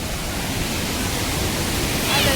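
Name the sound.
waterfall, rushing water flowing with force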